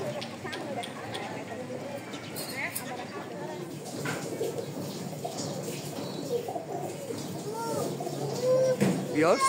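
Racing and roller pigeons coo in a loft, soft low murmuring calls against a busy, steady background with people talking nearby.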